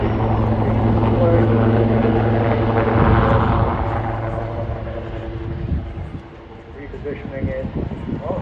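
A helicopter hovers nearby at an air show in Swansea, Wales, with a loud, steady rotor and turbine drone that gradually eases and shifts, while a commentator talks over it.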